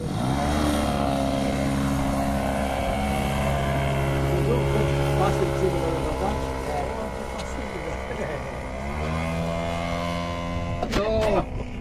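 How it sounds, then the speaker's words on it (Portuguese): A Carbon Cub light aircraft flies with its engine near idle, a steady droning hum with harmonic tones that shift slightly in pitch, heard close and continuous throughout. "para a mão do piloto, dono do avião, Egídio, voando seu Carbon Cube"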